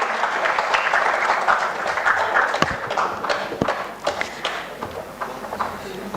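Applause from an audience at an awards and valedictory program, dense clapping near and fairly loud that thins into scattered claps toward the end.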